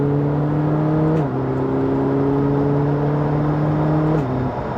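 Ferrari 458 V8 engine held at a high steady rev, loud and close, its pitch stepping down slightly twice as the revs shift, with no one talking.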